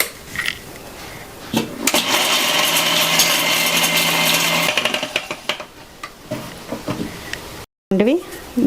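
A mixer grinder crushes dry coconut and cardamom in bursts of loud whirring, with clattering at the start and end and short gaps between runs. A person talks around the grinding.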